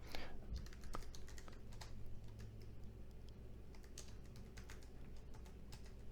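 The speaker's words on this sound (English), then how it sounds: "you can just type in here" Rapid typing on a computer keyboard while entering part numbers into a CAD parts list, a steady patter of light key clicks at close range, alone with no talking.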